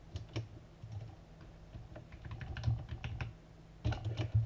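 Steady typing on a computer keyboard, quick irregular key clicks close up, with a few bursts of heavier keystrokes.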